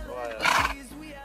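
A horse whinnies briefly, a rising and falling neigh in the middle, with voices talking around it.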